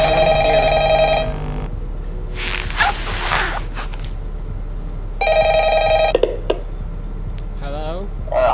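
Telephone ringing in the Ultimate Custom Night video game: a tonal electronic ring sounds near the start, breaks off while a person talks, then rings again for about a second before more speech.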